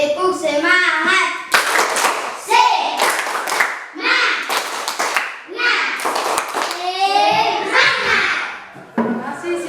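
Schoolchildren in an Indonesian classroom perform a rhythmic patterned clap, bursts of sharp hand claps in set beats alternating with chanted children's voices, close and lively, with a teacher's voice leading.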